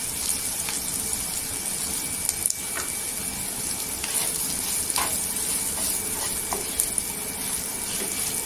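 Okra sizzles steadily in hot oil while roasted gram flour is stirred in, giving a continuous close frying hiss broken by small scraping and stirring taps, with no voices.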